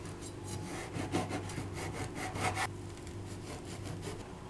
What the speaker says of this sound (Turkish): 200 gram yaş kadayıfımı ince ince kıyıyorum.